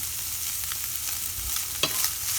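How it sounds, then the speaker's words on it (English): Garlic frying in a pan for stuffed mushrooms, giving a dense, bright sizzle with a few soft stirring scrapes, close and steady, and no voices. "I want to make sure that this garlic completely cooks all the raw of the garlic cooks up really, really well"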